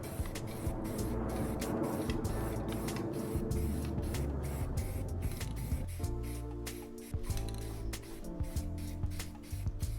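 Filler primer sprays from an aerosol can onto a 3D printed Green Goblin helmet on a bed frame, a loud hissing spray broken into several bursts with short gaps.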